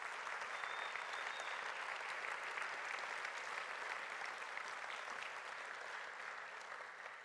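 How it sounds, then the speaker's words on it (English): Steady, even applause from an audience at an evening celebration of a church synod assembly, a dense wash of clapping that slowly tapers off. "how about if we give them all a round of applause?"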